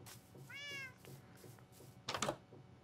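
A Minecraft cat kept inside a player's house gives a clear, rising meow, followed a moment later by a brief louder clatter of game sounds, all fairly quiet and with no voice over it.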